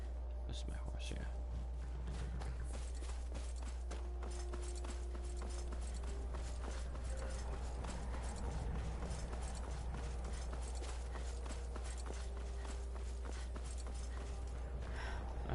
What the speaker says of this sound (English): Where's my horse? Is this my horse? This is my horse, yeah.